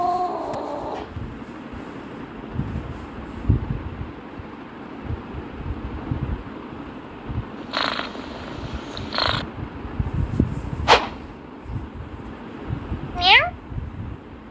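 A black cat meows in a video game, a few short cries with a rising, bending pitch scattered through the stretch, fairly faint beneath a steady game background and a voice talking over it.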